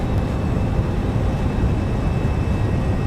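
An MD-11F freighter in the X-Plane flight simulator rolls out after landing with spoilers deployed, producing a loud, steady broadband engine and airframe roar with a faint whine.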